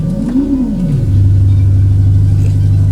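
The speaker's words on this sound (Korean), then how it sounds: "그 다음에 시동 걸어 보겠습니다. 시동 걸렸고요." A Mercedes-Benz GLE SUV with about 92,650 km cranks and fires with a rising, swooping whir, then settles into a loud, steady low idle hum heard close up.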